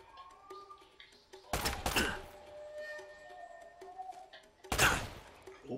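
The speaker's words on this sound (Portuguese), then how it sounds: "Eu só quero os tiros na cabeça, Bully." Two loud, sharp bursts of gunfire in Uncharted: Drake's Fortune, a few seconds apart, stand out against a quiet game backdrop with faint tones and a low hum.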